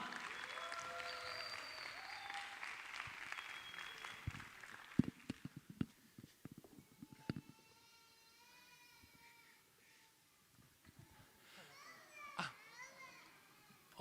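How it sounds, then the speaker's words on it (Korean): Audience at a church academy lecture breaks into dense, loud applause welcoming three guests, lasting about four seconds before thinning into scattered claps, children's chatter and voices. "박수로 환영하도록 하겠습니다"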